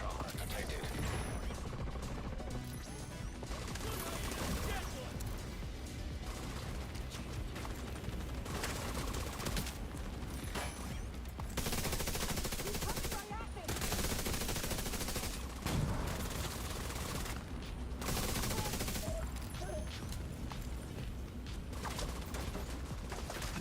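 Dense, continuous gunfire in The Division 2, sustained bursts running throughout at steady loudness, with a voice talking over parts of it.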